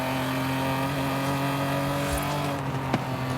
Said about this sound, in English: it's got that lovely old engine kind of noise. So I may have changed it to a straight 6.